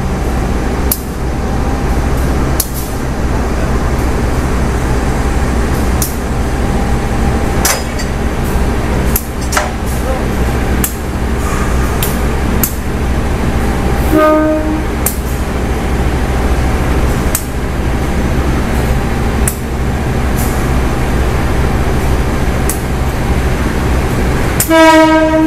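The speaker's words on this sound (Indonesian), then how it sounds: "Ini dia lokomotif dinas dari kereta api Progo." A heavy train hauled by CC203 and CC201 diesel locomotives rumbles past continuously with rhythmic clacking of wheels over rail joints, and a loud horn blasts twice, briefly and near.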